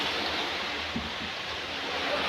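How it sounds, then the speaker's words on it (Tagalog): Heavy rain pours with a steady, even hiss of moderate loudness and no talking. "Sobrang lakas ng ulan."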